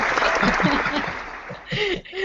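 An audience at an online business workshop applauds in a dense, continuous patter, with people talking and laughing over the clapping.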